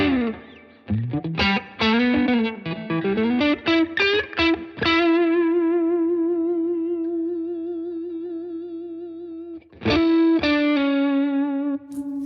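Electric guitar run through a Strymon Riverside overdrive pedal with a light noise gate: a quick run of loud distorted picked notes, then a long sustained chord fading slowly, and a final struck chord ringing out.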